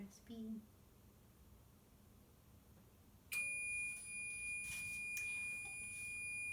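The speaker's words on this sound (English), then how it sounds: "There's my timer." A kitchen timer goes off for muffins baking in an oven, loud repeated electronic beeping that starts partway through after a quieter room with faint background sounds.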